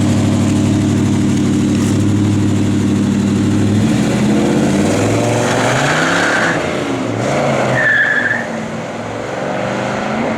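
A 1969 Chevrolet Chevelle SS engine idles with a deep, steady rumble up close, then its pitch and tone shift and waver as the engine note changes in the closing seconds.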